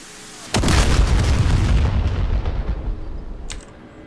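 A Vikhr missile strike in the DCS World Ka-50 Black Shark 3 flight game: a sudden heavy explosion booms and rumbles loudly for about three seconds, then fades.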